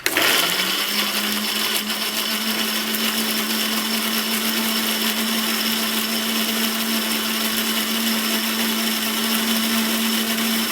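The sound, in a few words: blender blending a sugar scrub mix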